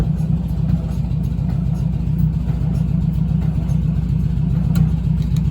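A small engine, likely a snow blower being readied in cold weather, runs steadily nearby with a loud, even low rumble and idle throughout, no clear revving.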